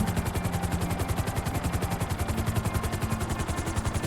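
An aircraft in GTA 5 descends to land, giving a steady, loud rotor-like thumping that pulses evenly throughout with no voices.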